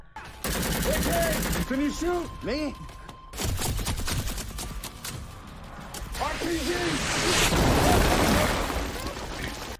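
Gunfire from Taliban fighters attacking from rooftops in a war film, loud bursts of rapid shots over shouting voices and a dense soundtrack, with a sustained crackling barrage at the end.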